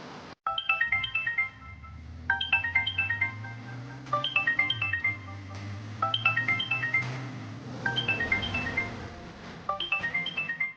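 A telephone ringtone plays a repeated melodic chiming pattern in several bursts, clear and continuous over a low background hum, with no talking.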